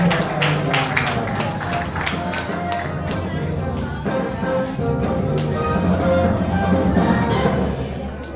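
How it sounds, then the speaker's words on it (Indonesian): Audience clapping and cheering to welcome a guest speaker at a talk show event about human rights, a dense sustained wash of applause with crowd noise running steadily throughout. "Tepuk tangan."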